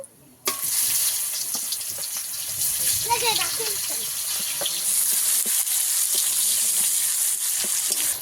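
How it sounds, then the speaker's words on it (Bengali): Sliced onions sizzle and fry steadily in hot oil with nigella seeds for a Bengali fish curry, a loud continuous crackle close by with occasional stirring, no talking over it. "পেঁয়াজটাকে ভালো করে ভেজে নেব"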